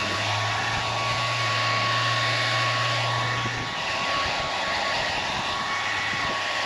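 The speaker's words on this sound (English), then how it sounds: "take a blow dryer and thoroughly dry this out" A blow dryer roars continuously up close while drying an RV refrigerator part, a broad steady whoosh of air with a faint low hum that drops out partway through.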